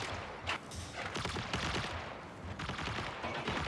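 Gunfire from a commander's clone in an Assassin-class shooter video game: rapid bursts of shots in a dense fusillade, fairly close and continuous, with no voices over them.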